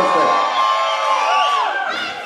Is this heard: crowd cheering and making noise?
yes